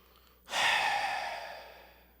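A single slow, deep breath drawn in and let out, a soft airy exhale swelling then fading gradually in a quiet room, close and alone with no talking.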